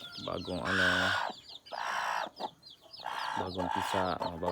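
A native chicken with curly, frizzled feathers clucks close by in a farmyard, with several bursts of throaty, rhythmic clucking separated by brief pauses.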